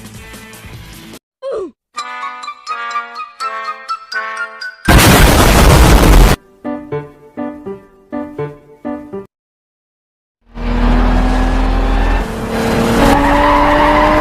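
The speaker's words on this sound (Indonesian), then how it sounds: "aksi kebut-kebutan atau kejar-kejaran mobil di jalanan dan berujung sebuah tabrakan" A street car chase that ends in a crash, staged for the 2016 film Collide, comes through in bursts of revving engines, screeching tyres and loud impact noise, broken by short silent gaps, with no one talking.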